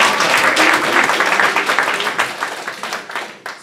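An audience at a prosperity class applauds loudly, with dense, steady clapping that gradually thins and fades toward the end, and no cheering voices stand out.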